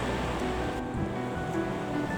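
A Scottish river near Linn Falls, Aberlour, running high after Storm Dennis, makes a continuous broad roar of rushing water that stays steady and loud throughout, with some wind buffeting and no voices.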